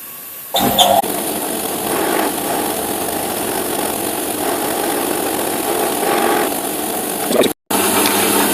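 A spot drill deburring metal makes a steady mechanical whine at constant pitch, with a brief cut near the end before it resumes.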